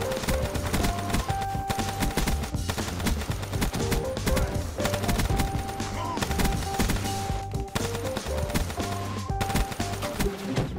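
Automatic gunfire from the Gorgon in Black Ops 3 crackles in dense, sustained bursts under a loud, continuous mix of game music and effects, with no pauses between shots.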